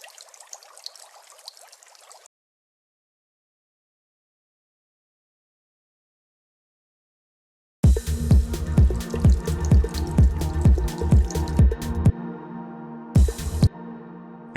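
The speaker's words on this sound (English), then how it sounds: "For now I'll use this water sound sample." Water sound sample loaded into FL Studio for a hypnotic techno track: a short watery trickle plays alone, then gives way to loud pulsing techno beats with layered synths.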